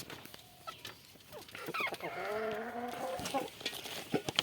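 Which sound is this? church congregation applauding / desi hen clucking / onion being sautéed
desi hen clucking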